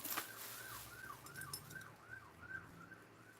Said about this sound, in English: Heard a police car. Very rarely do I hear a police car.